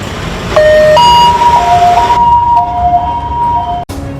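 An ambulance siren wails loud and close with rising and falling tones that switch pattern partway through, then cut off abruptly near the end.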